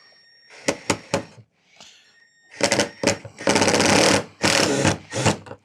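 A power drill drives a screw off center into a 2x4 wood stud, in several short bursts of whirring, then longer sustained runs, with brief pauses between.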